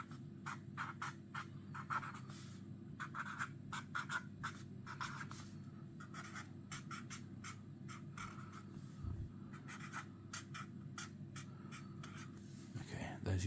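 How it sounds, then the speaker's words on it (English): Pen drawing on paper, close scratchy strokes in repeated bursts with short gaps, quiet and intimate in a soft ASMR setting. "I'm going to draw a little, just because it'll be easy to show you."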